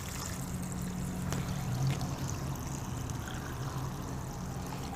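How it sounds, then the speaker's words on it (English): Water draining out of a portable camp washer outdoors, a steady, soft pouring trickle that runs continuously for several seconds. "let the water drain out"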